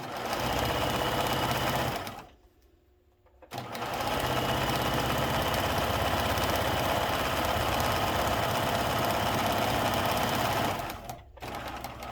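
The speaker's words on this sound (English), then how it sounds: "You just keep sewing." A sewing machine stitches quilt-as-you-go placemats in a loud, steady, fast mechanical whir up close, pausing briefly once before running on and stopping again near the end.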